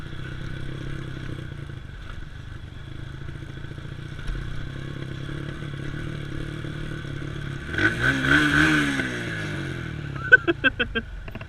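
A motorcycle rolls down a steep descent on a ride up Thimappana Betta near Bangalore. Its low engine drone holds steady, swells briefly with rattling, then a few sharp clicks close it out.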